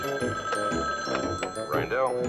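A telephone in a movie rings in short repeated bursts, a bright electronic trill heard mixed with voices and other scene sounds.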